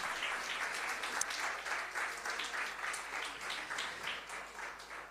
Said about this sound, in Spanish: si va a hacer un aplauso al Señor fuerte, el aplauso